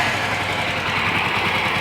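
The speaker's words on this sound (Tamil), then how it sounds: "அப்போ பார்த்தீங்கன்னா ஃபேனு ஓடுது." Radiator fan on a Yamaha R15 V2 motorcycle running steadily with a constant whirring drone, close and loud with no pauses, alongside the bike's engine hum.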